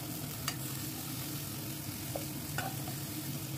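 Cauliflower florets frying in oil in a pan, a low steady sizzle with a few faint scrapes from stirring.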